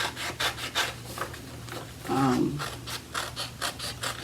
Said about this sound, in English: So I'm just gonna cut around the image to get some of this excess white off.